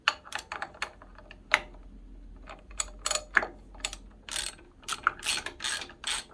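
A hand ratchet clicks in short, uneven bursts while it tightens a bolt on an Onan 5500/7000 generator, with crisp close clicks and small pauses in between.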